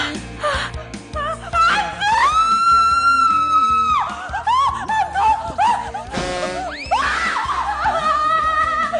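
A person in an Indonesian TV drama screams and wails in long, pitch-sliding cries, loud and close, broken by short gasps and breaths.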